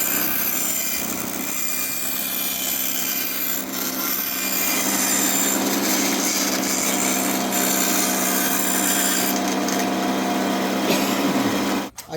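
Bandsaw fitted with a 3/16 inch, 4 TPI blade cutting through wood stock for a Christmas tree board template, a steady loud whirring rasp that runs without a break for about twelve seconds and cuts off abruptly at the end.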